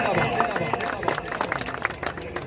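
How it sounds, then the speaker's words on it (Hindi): Crowd applause and cheering at a kabaddi final in Pakistan, clapping and babble running continuously under an announcer's loud voice. "एक दफा जोरदार तालियां जिंदाबाद जी जिंदाबाद"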